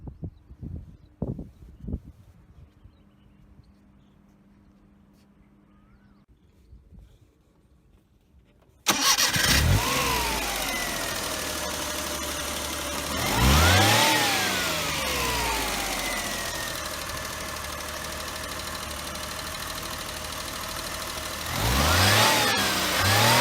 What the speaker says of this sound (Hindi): तो ये थी 800 सीसी सुजुकी F इंजन की साउंड